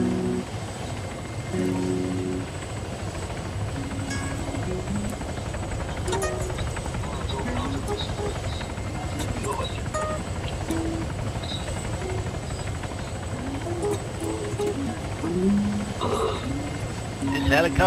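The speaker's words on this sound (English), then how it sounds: "Helicopter is so goddamn broken" A helicopter in a video game drones on steadily and loudly for the whole stretch, a dense continuous rumble mixed with scattered game effects and occasional voices.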